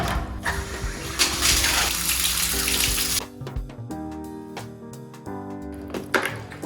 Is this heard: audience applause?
no